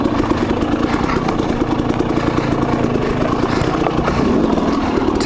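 A KTM 300 XC-W two-stroke dirt bike pulls along in first gear, its engine a loud, steady buzzing drone close to the rider, with no talking.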